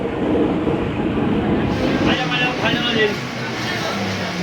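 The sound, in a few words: local train departing from station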